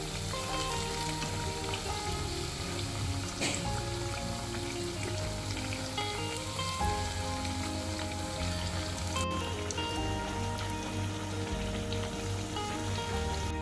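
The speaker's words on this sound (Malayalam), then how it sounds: "എണ്ണ ചൂടായി വരുമ്പോൾ ഓരോ പഴം ഇതുപോലെ ഇട്ട് കൊടുക്കുക." Banana pieces fry in hot oil, giving a steady dense sizzle and crackle that runs continuously with no talking.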